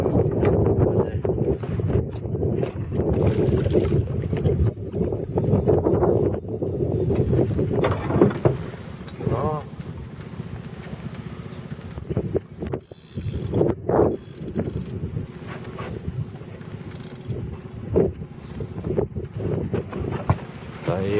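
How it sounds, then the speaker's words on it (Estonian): Strong wind buffets the microphone beside a boat on a lake, a constant roar with gusts, while people talk intermittently over it. "Siingi on tuuline"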